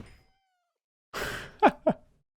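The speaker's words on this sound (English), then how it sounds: "Oh, look at the cute little ocelot." An ocelot in a video game gives a breathy hiss followed by two short, rising meows in quick succession, close and fairly clear against silence.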